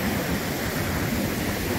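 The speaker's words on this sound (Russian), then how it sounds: "Фантастически красивый водопад на пенке." A waterfall on the Penka river, pouring down into a canyon, makes a steady, dense roar of rushing water that stays loud and unchanging throughout, with no voices.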